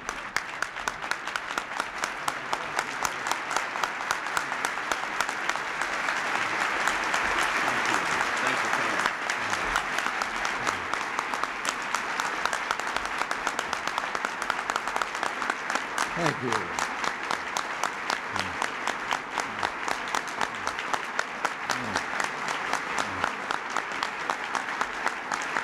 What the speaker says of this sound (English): Let's applaud him right now.